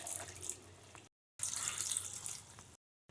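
Water splashes into a pressure cooker of moringa-leaf dal in two close, hissing pours separated by a short silence.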